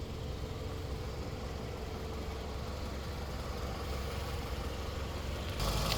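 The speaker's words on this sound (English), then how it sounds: "Vehicle's currently running, sounds good, no smoke." A 2005 Toyota Camry's engine idles with a steady, even low rumble close by, continuous and unchanging with no voices, rising slightly louder at the very end.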